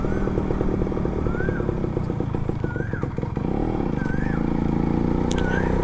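Suzuki Max 100R two-stroke motorcycle ride, a steady buzzing engine with clicks and a brief dip as gears shift smoothly, heard loud and close alongside wind noise.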